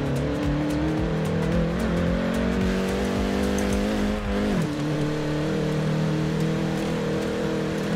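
A car driven in the video game Forza Horizon 4, its engine droning steadily close up and loud, pitch shifting as it eases off and picks up again around the middle.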